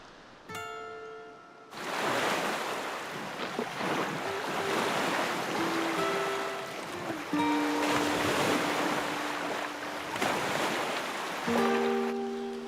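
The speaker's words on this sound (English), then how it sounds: "The wind continues, unrelenting." Strong, unrelenting wind roars across a big lake, pushing rough waves against the shore; a steady blustery rush with gusts and wind buffeting the microphone, no talking.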